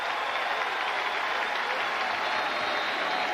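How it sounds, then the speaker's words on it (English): A stadium crowd at a Rutgers vs Miami college football game in Piscataway roars steadily, a dense wash of cheering and applause from many fans with no clear voices standing out. "And the crowd comes to its feet here in Piscataway."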